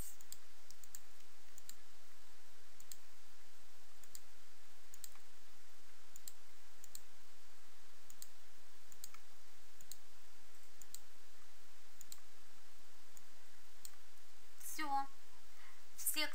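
A computer mouse clicks sharply at regular intervals, roughly once a second, close and crisp against a quiet background, with a brief burst of talk near the end.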